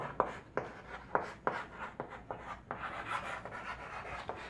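Strokes of a marker or chalk on a classroom board during an anatomy lesson on the liver, a steady series of short scratchy scrapes, close and clear with no voices.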